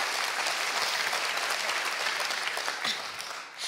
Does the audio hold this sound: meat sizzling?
no